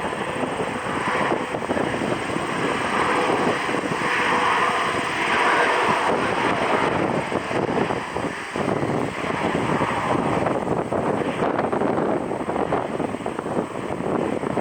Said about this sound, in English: So this is an EGYPTAIR flight. It's flight 3997, Airbus A220.